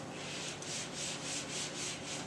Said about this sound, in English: right in here, where your bevel ends, you want to sand all that up to at least 1 inch, both sides